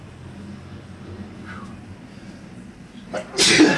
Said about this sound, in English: the sneeze that I'm about to give you